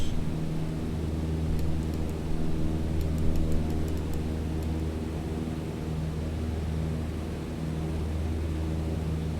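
Airplane engine held at steady power during the takeoff roll down the runway in Microsoft Flight Simulator 2020, a constant droning hum with faint ticking clicks layered over it. No voices.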